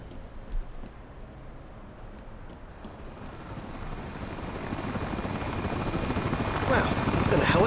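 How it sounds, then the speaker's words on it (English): Helicopter rotor thudding in a video game, growing steadily louder as it approaches, with a broad engine roar building toward the end. "Wow, is that a helicopter after me?"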